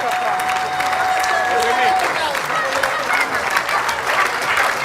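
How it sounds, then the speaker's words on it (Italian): Applause breaks out for a long-distance bocce throw at a tournament, a dense, steady clapping from a crowd lasting several seconds, with a commentator talking over it. "Solo applausi per Pierpaolo Cossu, strameritati"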